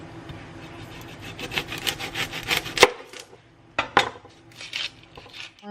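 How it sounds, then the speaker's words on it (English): A knife cutting an onion on a board, a run of quick irregular taps and scrapes up close, with a couple of sharper louder knocks and short pauses between strokes. "I'm going to be cutting up an onion."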